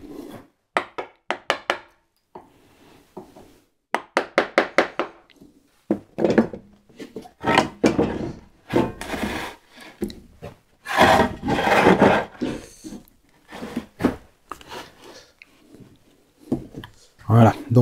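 A wood chisel cuts a through mortise for a saw rack, giving bursts of short scraping and tapping strokes, some in rapid clusters, some longer rasps, broken by pauses, with someone talking in between.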